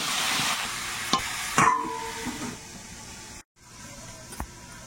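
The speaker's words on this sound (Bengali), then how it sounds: "এখন পেঁপে আর আলুটাকে ভালো করে নেড়ে চেড়ে একটু ভেজে নেব।" Papaya and potato pieces being stirred and fried in a pan with turmeric and salt, a soft hiss with a few sharp scrapes and clacks of the spoon against the pan.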